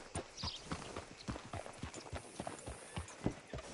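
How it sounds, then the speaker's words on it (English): Horse hooves clip-clop steadily at a walking pace on a hard surface in Red Dead Redemption II, fairly close and moderately loud, with no one speaking. "Hitch your horse up here."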